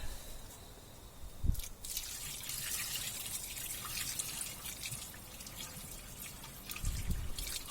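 Water poured into a Ford XY Falcon 4x4 ute, running in with a steady splashing trickle and drips, a brief thud near the start and another soft knock toward the end.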